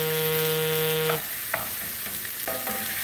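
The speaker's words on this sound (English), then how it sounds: "So we're gonna let that simmer a minute." Ground chuck beef sizzles quietly in a pan on a gas burner, a soft continuous frying hiss broken by a few brief clinks of stirring.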